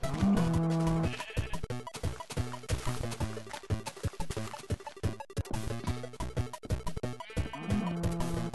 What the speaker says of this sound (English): Found the cow.